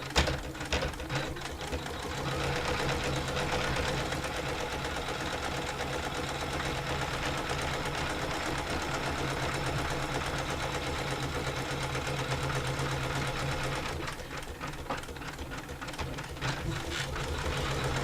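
A sewing machine stitching with the presser foot lowered gives a continuous, close mechanical whirr with a rapid ticking rhythm, holding steady before briefly dropping in pitch and level near the end.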